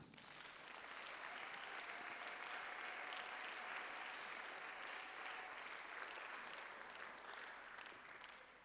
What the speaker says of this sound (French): On va applaudir pour le Seigneur.